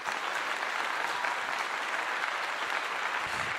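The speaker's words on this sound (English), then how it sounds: "Let's give it a clap." A crowd claps steadily at a post-game sports analysis session after news of a player returning for the Kansas State home game, dense even applause that is moderately distant and holds at one level throughout.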